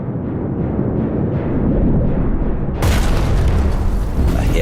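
A wartime torpedo hit on an oil-laden tanker at night, heard as a loud, sustained deep rumbling boom with a sharper burst of blast noise partway through.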